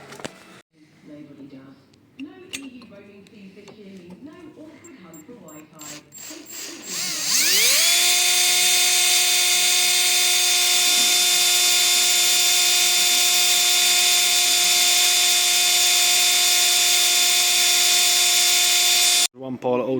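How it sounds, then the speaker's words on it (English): A power drill winds up to a high, steady whine while boring holes in car headlamp panels on a supercharged Honda NSX build, holding loud and constant for about twelve seconds, preceded by brief talk and clatter. "We're going to drill them all out."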